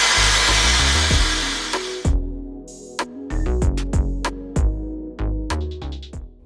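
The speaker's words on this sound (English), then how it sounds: "And then I go in with the blow dryer and blow dry the area on cool" A hair dryer on the cool setting blows with a steady, loud rushing roar for about two seconds, then cuts off.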